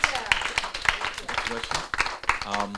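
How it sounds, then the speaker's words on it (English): Audience at a tenant summit applauds, scattered claps and hand taps running under a speaking voice, moderately close and fairly faint. "let's give these ladies a round of applause"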